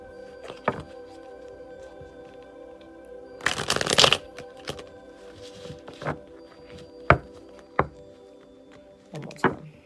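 Oracle cards from a Mythical Goddess deck shuffled by hand, with a dense burst of riffling in the middle and scattered sharp taps and thuds of cards around it, close and fairly quiet.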